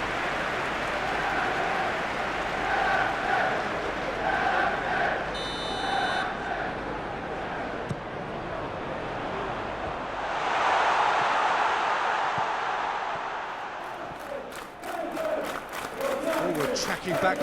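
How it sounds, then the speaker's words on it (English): A football stadium crowd in PES 2020 during Manchester United against Southampton, a steady roar that swells into louder cheering, with a brief whistle-like tone and a commentator talking over it. "Crowd calling for him to shoot."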